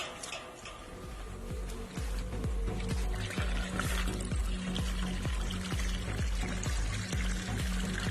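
A steady stream of water pours and splashes continuously into a small pond set out as a drinking spot for birds, with a faint ticking trickle beneath.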